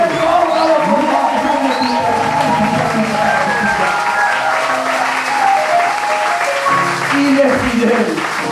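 Congregation at a church service applauding God, with sustained dense clapping from a large crowd throughout, under an ongoing voice and loud hall sound.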